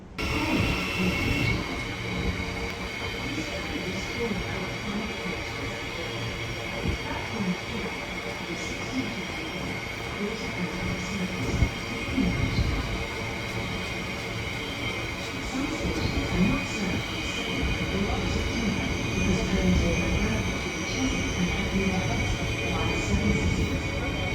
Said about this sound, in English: we'll see when the train pulls in shortly